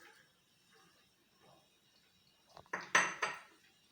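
Potato, spinach, onion and spices being mixed in a bowl, heard as a few loud clattering knocks and scrapes of a utensil against the dish near the end after quiet, faint stirring.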